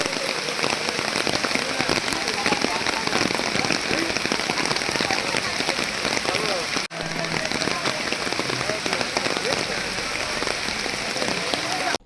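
Heavy rain pours continuously over the Kumta–Sirsi national highway in Uttara Kannada district, a dense, loud, unbroken hiss of drops lasting the whole stretch.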